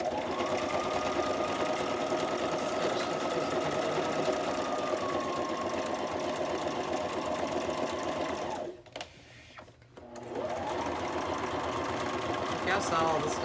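A sewing machine runs steadily with a rapid, even mechanical whir, pauses for about a second, then starts up again.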